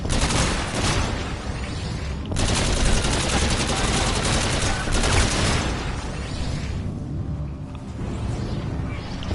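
Rapid automatic gunfire rattles in dense bursts against a rhino during a video game zombies mode, loud and continuous with short pauses between volleys.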